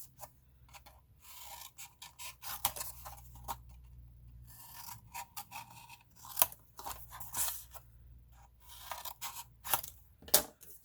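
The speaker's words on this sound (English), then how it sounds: "Scissors." Scissors snip through paper for a mini album, crisp close cuts in uneven bursts with short pauses between them and no talk.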